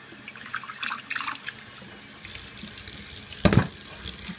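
Water runs from a tap into a sink while rinsing sesame seeds, splashing unevenly, with a louder gush near the end.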